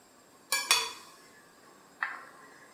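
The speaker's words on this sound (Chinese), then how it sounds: "下卤豆腐的时候不用铲子，这样搅均匀，要推过去，以免豆腐碎掉。" Braised tofu being stirred and pushed through a pot of crab soup, giving two quick close clinks of utensil on pot followed by a single lighter knock a moment later.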